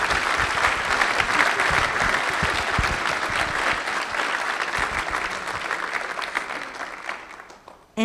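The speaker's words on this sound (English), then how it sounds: "So I just want to give everyone an applause here." A crowd claps steadily for several seconds, dense and even, before the applause tapers off and stops abruptly.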